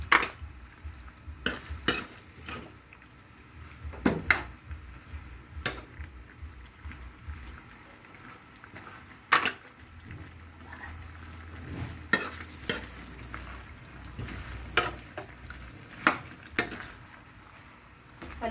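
Chop suey with cabbage is stirred in a frying pan, with repeated sharp scrapes and clinks of a utensil against the pan over a steady low sizzle, near and fairly quiet, with no voices.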